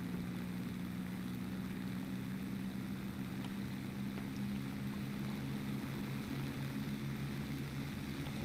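Steady propeller-driven fighter engine drone from a video game air duel featuring the Reggiane Re.2005, a constant low hum with no breaks, moderately loud and alone.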